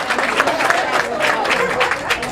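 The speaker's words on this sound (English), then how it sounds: "give yourselves a round of applause" Sustained applause from a group in a diabetes-reversal class, dense steady clapping throughout at close range with no pauses.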